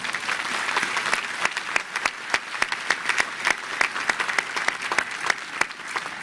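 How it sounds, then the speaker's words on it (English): A room full of people at a university commencement clapping steadily, a dense patter of many hands that holds its level throughout without voices. "So one more round of applause for Lucille."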